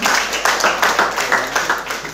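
Church congregation at a Sunday service clapping in a rhythmic, regular beat, roughly three claps per second, close and fairly loud with a roomy sound and no talk over it.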